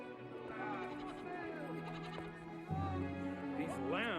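Cartoon lambs bleat in an animated Karakalpak film, with wavering bleats rising near the end while characters talk over them and a low musical backing runs throughout.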